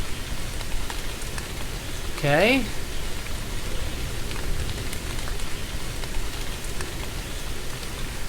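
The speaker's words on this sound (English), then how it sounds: "I love how it's raining, but the ground doesn't look wet." Steady rain falls in a video game world over a former forest, a constant hiss that continues throughout while a person talks briefly.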